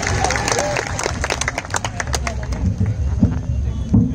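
Applause and clapping from an audience at a tribal community jayanti gathering in Amarkot, dense and steady throughout with crowd murmur and voices mixed in.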